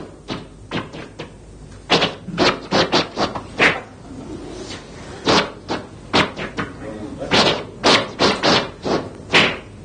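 Bursts of chopped white noise imitating s and ch consonants in a demonstration of synthesized speech sounds, short hissy fragments in an uneven, speech-like rhythm with no talking over them.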